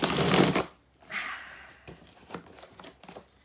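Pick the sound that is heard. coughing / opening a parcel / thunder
opening a parcel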